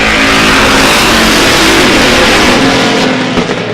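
Race cars on a short oval track run nose to tail in a close pack, engines roaring loud and steady throughout with a dense, continuous revving drone.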